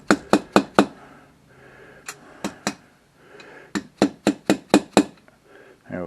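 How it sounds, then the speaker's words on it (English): A metal socket tapped down over the dowel pins of a stock head gasket on a Kohler Command Pro V-twin engine head, giving sharp metallic clicks in quick bursts of four, then three, then six close strikes. "I take a socket and just kind of tap it down over the dowel pins there a little"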